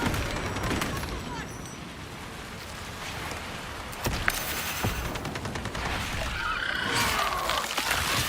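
Video game frag grenade detonation amid bursts of gunfire, sharp blasts near the middle and rattling shots scattered throughout, fairly close and loud, with a voice talking over parts.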